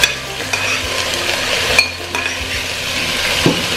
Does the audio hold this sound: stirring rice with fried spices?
yes